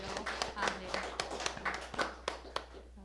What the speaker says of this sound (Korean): 우리 청년들을 위해서 박수 한 번만 쳐주십시오.